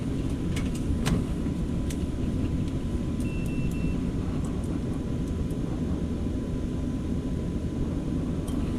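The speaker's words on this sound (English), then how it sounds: "It should be closed with this inducer motor running." Steady low motor hum from a furnace inducer motor with a faulty capacitor, running continuously at constant level with faint clicks and ticks over it, no talking.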